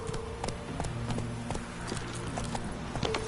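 Horse galloping in the video game The Witcher 3, with steady rhythmic hoofbeats close and clear over a low background of music.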